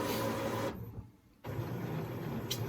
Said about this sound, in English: So printer's going through its stages.